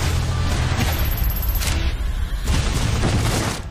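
A film scene fills with loud, sustained gunfire, a dense fusillade of shots and booms rolling on without pause and with no talking.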